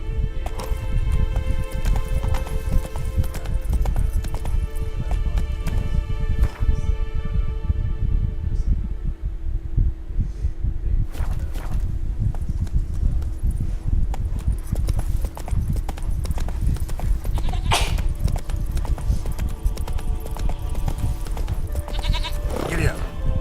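Horse hooves clip-clopping steadily in The Witcher video game, continuous and close, with game music and ambient tones underneath and a brief voice in the mix.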